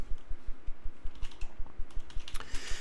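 Computer keyboard typing in a quiet room, a fast, fairly even run of crisp key clicks close by, with a few sharper taps near the end.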